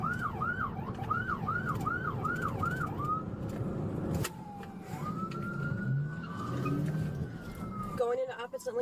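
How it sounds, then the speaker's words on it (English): Police car siren wailing in fast yelp cycles, then a long sustained wail and a brief yelp burst, heard from inside a vehicle during a high-speed chase with heavy road and engine noise underneath. "Now you put your siren on."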